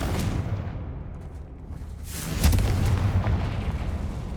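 Fiery Confringo spell blasts go off in Hogwarts Legacy: a rumbling explosive burst, a brief lull, then a second louder boom at about two and a half seconds that trails off in a roaring decay, with no speech.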